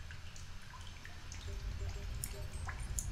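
An empty water bottle being refilled in The Solus Project video game, with soft scattered drips and trickles over a low steady ambient rumble.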